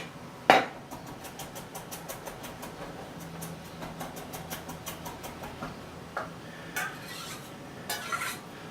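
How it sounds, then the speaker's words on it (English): Knife mincing ginger and garlic on a cutting board, quiet rapid tapping chops in a steady rhythm, with a sharper knock near the start. "start off with mincing some ginger, some garlic"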